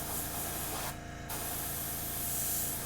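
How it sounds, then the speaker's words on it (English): A continuous airbrush hiss sprays steadily onto Warhammer Warcry terrain, stopping briefly for a moment before resuming, close and fairly loud. "I'm going to just spray some air at it"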